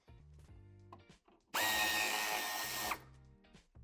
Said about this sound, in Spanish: Vamos a aflojar estos dos tornillos del piloto